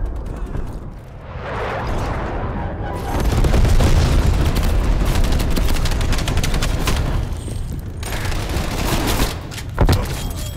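Heavy gunfire and booming blasts fill a Nuketown Holiday match in Call of Duty Black Ops Cold War, with dense loud bursts and rumbling explosions and a sharp shotgun-like crack near the end.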